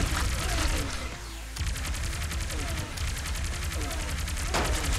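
Rapid spear gun shots in the video game Rogue Robots crack out in dense, repeated bursts, loud and continuous over combat noise, with sharp impacts and a brief sweeping whoosh.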